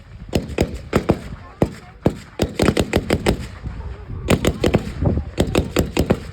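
A Browning Automatic Rifle laying down base fire at a Marine Corps open-house demonstration, with sharp outdoor shots in irregular single reports and short rapid bursts, loud with echoing tails, alongside other blank fire in the field.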